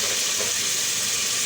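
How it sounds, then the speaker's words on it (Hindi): Arvi gosht, taro roots with meat, frying in a pan with a steady, even sizzle for a brief moment, close and continuous with no talk. "देखो जैसे हम इसको भूनते रहेंगे"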